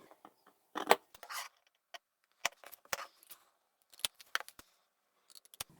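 Scissors snip out a sewing template cut from leather or vinyl scraps in a quiet room: sharp, close blade clicks and short cuts come in irregular bursts with pauses between them.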